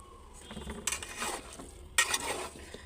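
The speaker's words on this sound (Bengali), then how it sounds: "এই তো আচারটা এরকম ভাজা দিছি" Pickle frying in mustard oil is stirred in a pan, with soft sizzling underneath and two louder scraping bursts of stirring close by.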